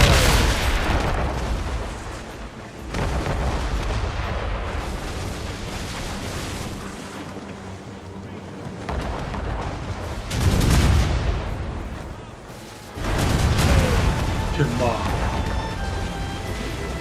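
Cannon fire from a ship in Assassin's Creed Rogue: heavy booming blasts with long rumbling tails, loud and close, coming in separate bursts at the start, near the middle and toward the end, with voices shouting over the battle.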